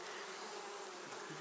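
Honeybees hum in a steady, even drone from an open hive in spring, a close, continuous buzz with no voices over it.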